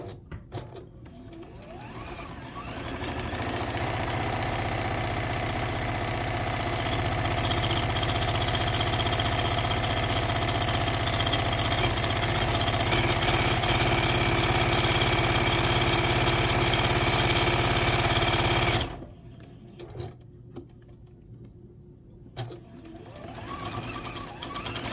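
A home sewing machine stitches a quilt circle for a coral-flower block, running in a steady, close mechanical whir for about fifteen seconds before stopping abruptly. Only a few faint handling noises follow.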